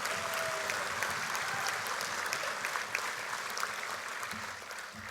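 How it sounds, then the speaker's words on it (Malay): Moderately faint, continuous audience applause at an UMNO assembly celebrating 30 years of UMNO Sabah, with a broad crowd texture that thins slightly toward the end. "Tepukan tidak cukup kuat untuk memberikan penghargaan kepada UMNO Sabah."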